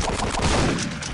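A gunshot from the video game Postal 2, one loud close burst with a broad, crackling tail that fills the moment and has no talk over it.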